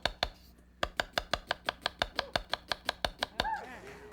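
Knife chopping red onion on a cutting board: about twenty-two crisp, evenly spaced chops in a steady quick rhythm, close and clear, ending with a softer scrape.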